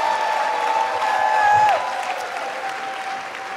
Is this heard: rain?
no